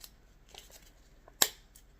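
Scissors snip material for a goth home DIY project, a few faint rustles then one crisp close cut in a quiet room.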